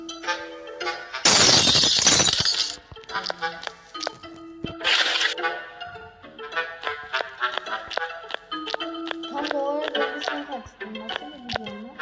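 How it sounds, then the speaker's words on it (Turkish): Glass window smashed in the horror video game Dark Riddle: a loud burst of shattering with tinkling shards, then a second short crash, set among game music and effects. "şu camı uzaktan kır."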